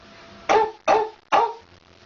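A voice imitates a dog barking, giving three sharp, loud barks spaced about half a second apart, with no other sound around them.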